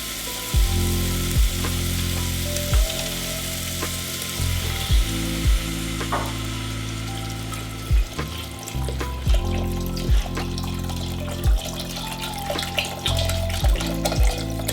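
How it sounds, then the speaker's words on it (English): Vegetable broth poured into a hot, sizzling pot while making homemade ramen: a continuous loud pouring and frying hiss with low bubbling, broken by a few brief clunks and splashes, no voices. "Now I'm gonna have my sous chef pour in the veggie broth."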